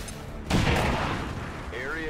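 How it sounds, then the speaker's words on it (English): A grenade blast in the video game XCOM 2 erupts in a single loud boom, followed by a rumbling tail and faint game chatter at the end. "Grenade!"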